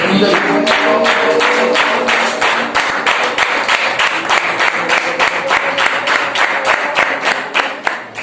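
A church congregation at a Sunday worship service at an Assembly church in Kodangavila, Kerala, claps in a steady rhythmic beat, loud and close, continuing throughout with a droning tone underneath.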